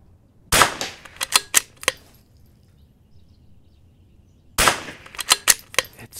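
Rimfire rifle at an outdoor shooting range, with a spinning target. Two sharp, loud cracks sound several seconds apart, and each is followed by a quick run of rattling metallic clinks that fade out, with quiet between them.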